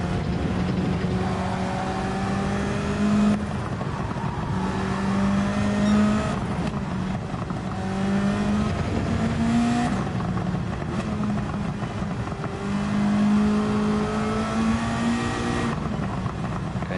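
Car engine exhaust in Gran Turismo 7, a steady droning engine note that climbs and falls through repeated upshifts and revs, loud and continuous throughout with no talk.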